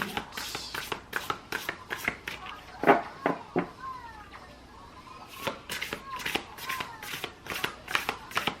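Oracle cards are shuffled in quick bursts of soft riffling and slapping close up, in uneven rhythm, with a faint cat-like sound briefly in the middle.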